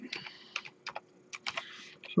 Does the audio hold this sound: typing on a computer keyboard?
yes